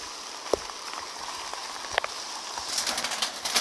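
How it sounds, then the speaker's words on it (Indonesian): Rain falls outside a simple wooden hut in a rural kampung, a soft continuous patter with scattered drips and a few sharper drops, heavier toward the end. "Sementara tunggu hujan berhenti."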